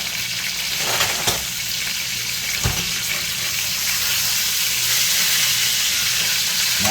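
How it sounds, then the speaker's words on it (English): Chicken thighs frying in a pan, a loud, steady sizzle with a couple of brief knocks as the pieces are flipped, close and continuous with no talking. "let's give these thighs a quick flip"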